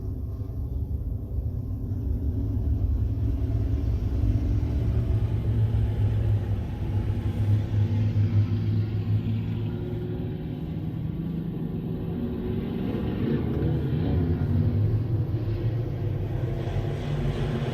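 Modified dwarf race car engines rumble together at the green-flag start on a speedway oval, a dense low roar building and swelling as the pack accelerates.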